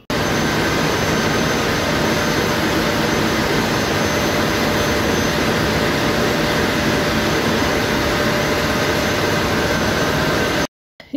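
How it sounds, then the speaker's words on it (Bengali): A loud, steady engine roar from a 1500-horsepower Weichai diesel engine on a large passenger launch drones without pause at close range, a dense, unbroken mechanical noise that cuts off abruptly near the end. "এটার যে ইঞ্জিন সেটা উইচাই ইঞ্জিন, এটা 1500 হর্স পাওয়ার যুক্ত, এটা খুবই পাওয়ারফুল একটা ইঞ্জিন"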